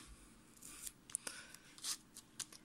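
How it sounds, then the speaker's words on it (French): Scissors snip through paper while a handmade Christmas card is trimmed, a few faint, separate cuts in a quiet room, soft and close with short pauses between them. "Et je coupe."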